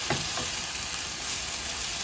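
Pieces of chicken piccata, freshly flipped, fry steadily in a crowded pan, a continuous close sizzle with a few soft stirring clicks near the start and no talking.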